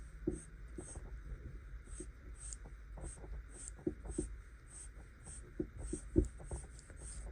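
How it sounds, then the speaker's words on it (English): A pen scratches directional ink lines across paper, drawing hair in stippling style: quick, soft, close strokes in an irregular rhythm over a steady low hum. "I'm going to draw directional lines, kind of showing that"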